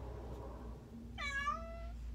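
A house cat gives a single clear, drawn-out meow close by in a quiet indoor room.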